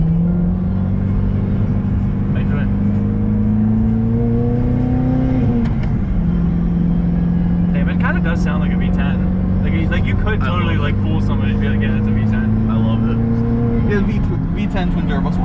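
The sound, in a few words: twin turbo V8 full carbon supercar engine revving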